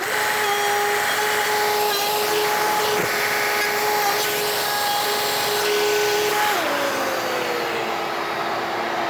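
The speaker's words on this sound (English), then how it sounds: "This is a plunge router with an actual router bit in it." A plunge router fitted with a router bit whines steadily while cutting into wood, a loud continuous high-pitched motor drone whose pitch dips slightly under load partway through, with no talk.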